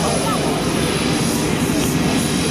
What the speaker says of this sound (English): It is an extremely capable helicopter.